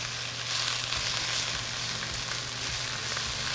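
Mushrooms and onions sizzle in a hot cast iron pan, a continuous, even frying hiss that stays steady and fairly close, with no talking.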